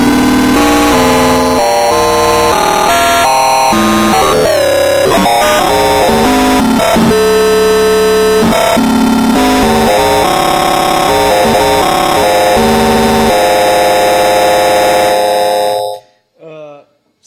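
Wavetable tones from a Moffenzeef Stargazer synthesizer, a dense buzzing, shifting stream of stepped pitches and glitchy textures, loud and continuous for about sixteen seconds before cutting off.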